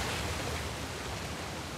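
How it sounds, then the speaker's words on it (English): A waterfall in the video game Uncharted: The Lost Legacy gives off a constant, dense rushing roar that fills the space evenly and loudly, with no talking. "Another waterfall."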